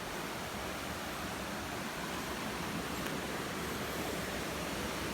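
Imugan Falls in Sta. Fe, Nueva Vizcaya, a waterfall whose steady broadband rush of falling water fills the whole stretch, loud and even with no break and no voices.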